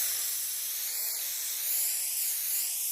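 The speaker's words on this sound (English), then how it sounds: "We're just gonna spray it down" A steady, fairly loud hiss of Kryolan makeup fixing spray that runs for the full three seconds, with no pauses and no voices.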